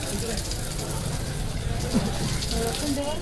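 Water pouring and splashing steadily for washing feet at a temple, a continuous close gushing flow under people talking.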